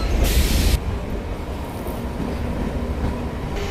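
A passenger train travelling from Mysuru to Bengaluru rumbles steadily along the tracks, heard close from on board, with a loud burst of hiss early on over a continuous low rolling rumble.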